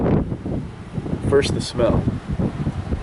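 Wind blowing outdoors gusts and rumbles across the microphone in uneven bursts while someone talks throughout, close and fairly loud.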